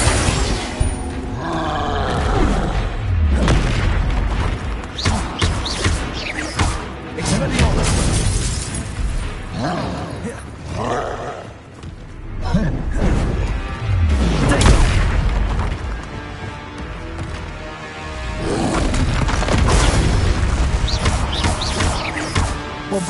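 Explosive spell blasts from Bombarda and Confringo in the video game Hogwarts Legacy, heavy booms and shattering crashes in dense succession over a sustained loud battle din, with voices in the mix.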